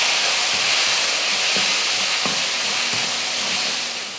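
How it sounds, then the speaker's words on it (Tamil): Soya keema with spices and salt is stirred in a hot pan, giving a steady loud sizzle and frying hiss throughout, with a few soft scraping knocks from the spoon. "தேவையான உப்பு போட்டு இதை கலந்து விட்டுருவோம்."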